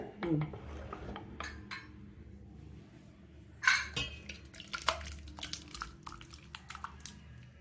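Mutton gravy (pepper mutton fry) being moved from one cooking pot to another, with metal spoon scrapes and clinks against the pots, a few sharp clanks, and soft wet drips and squishes in a quiet kitchen.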